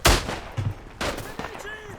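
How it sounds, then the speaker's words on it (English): Submachine gun fire in the World War I shooter Isonzo on the Monte Cengio map, a handful of sharp, punchy shots spaced irregularly over two seconds, loud and close with faint echoing tails. "I'm just trying to use the SMG so you at least see it"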